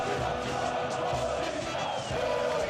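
Corinthians fans celebrating the 2012 Libertadores title, a loud mass of voices chanting and shouting together with a dense, steady roar and rhythmic low thumps underneath.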